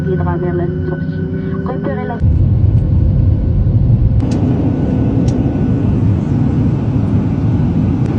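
An airplane's engines drone in a loud, continuous rumble aboard a flight from Casablanca Mohammed V airport, with a brief tonal sound fading out at the start.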